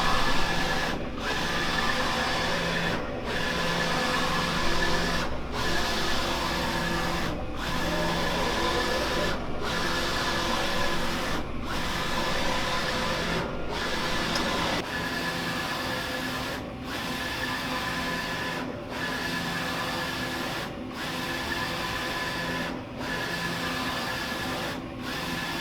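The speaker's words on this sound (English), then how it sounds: "The printer started." A large-format printer runs a print job, giving a loud, steady mechanical whir broken by regular short pauses every couple of seconds as the print head sweeps back and forth, with no voices.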